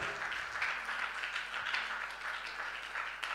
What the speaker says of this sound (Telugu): గట్టి కొడదాం చప్పట్లు